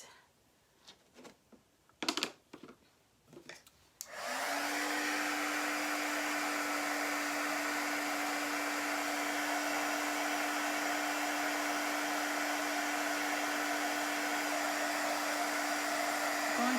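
Hair dryer switched on to dry chalk paste on a round door hanger, a few handling knocks and then a loud steady blowing roar with a constant tonal whine, continuing to the end.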